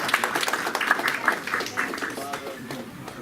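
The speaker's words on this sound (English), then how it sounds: "Please give Imam Siraj a round of applause." Audience applause at a religious community program, a patter of clapping that fades out over about three seconds, with a voice briefly audible over it.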